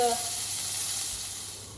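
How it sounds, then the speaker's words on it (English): Steady, close sizzling of a beef burger patty frying in a hot pan, a bright crackling hiss that slowly fades. "It should sizzle straight away."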